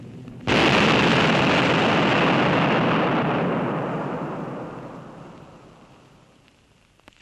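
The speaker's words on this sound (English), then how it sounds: "A feature of the big bomb is the crater it makes before it goes off." Huge blast from a Barnes Wallis earthquake bomb on archive film bursts in suddenly, then gives a long roaring rumble that slowly fades away over several seconds.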